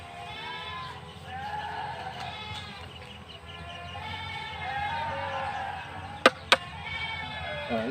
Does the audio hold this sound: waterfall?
no